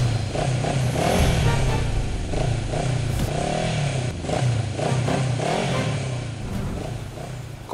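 A motorcycle engine revs and drones steadily close by, its pitch rising and falling in uneven surges, with faint clattering and scraping mixed in.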